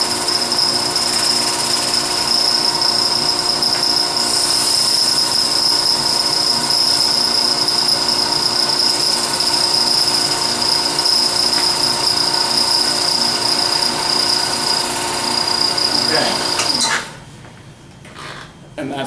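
A power sander works a notch in a wooden scoop carved in the Soren Berger style, a loud, steady, high-pitched whine that runs without a break, then cuts out abruptly near the end, leaving a quieter, rougher tail.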